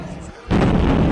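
A loud, sudden explosion from a rocket attack on a residential area in Ukraine erupts after a quieter stretch and holds as a dense, sustained roar to the end.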